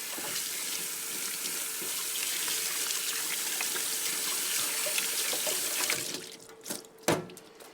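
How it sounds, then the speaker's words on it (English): Water runs steadily from a sink tap while hands are washed after fitting a car battery, a continuous close hiss that cuts off toward the end, followed by a few brief splashes and clunks. "After we've fitted the battery, quickly wash our hands"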